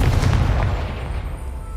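Confringo spell blast in Hogwarts Legacy, a heavy booming burst at the start that rolls off into a fading rumble.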